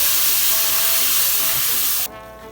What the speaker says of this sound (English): Now I'm just gonna slide these veggies into the pot.